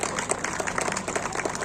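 Scattered clapping from a crowd at a village wrestling festival, a dense patter of hand claps heard from a distance at low volume.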